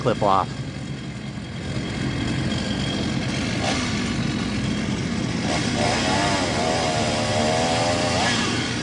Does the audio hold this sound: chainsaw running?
yes